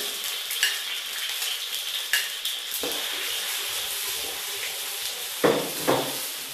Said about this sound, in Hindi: ऑयल गर्म हो गया है, इसमें हम सिर्फ प्याज डाल देंगे